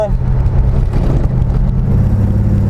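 A 1965 Chevrolet Impala accelerating back onto a straight road, heard from inside as a loud, steady low engine rumble with road noise, continuous throughout.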